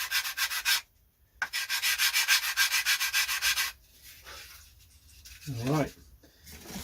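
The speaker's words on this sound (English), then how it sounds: "That's both wings sanded, so quite pleased with that." Rhythmic sandpaper strokes rub across the wooden wings of a Mercury Tiger Moth model aircraft, two loud bursts of steady back-and-forth scraping broken by a short pause, then fading to quiet with a brief voice.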